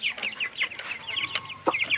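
Chickens being caught cluck and squawk in quick, agitated bursts close by, with fluttering and scuffling between the calls.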